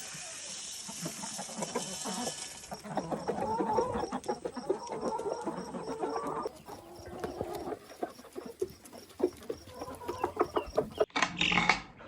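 Chickens cluck and chatter close by in short, uneven bursts, with birds calling and some scuffling; a voice speaks briefly in the background.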